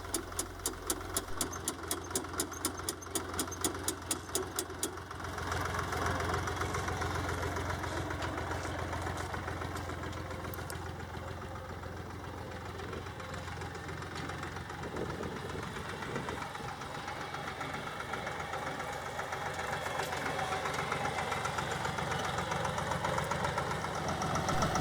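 A tractor pulls a Covington TP66 planter through a sunflower field, its engine drone and rattling machinery running continuously and steadily, with a rapid ticking at the start.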